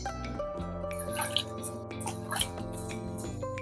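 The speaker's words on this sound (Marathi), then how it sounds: "खत घातल्यावर अगदी 1 मग पाणी असं शिंपडल्यासारखं करते" Water splashes from a mug onto potted garden plants after fertilizer, heard as close, irregular drips and trickles with a light liquid patter throughout.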